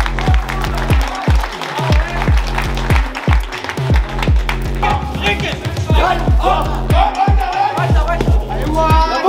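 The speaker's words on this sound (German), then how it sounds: "Hier, mach mal Applaus für unseren Gewinner, Mann." Applause for a winner behind the scenes, with steady clapping and crowd noise and a rhythmic thumping beat running underneath, loud and sustained, with voices mixed in.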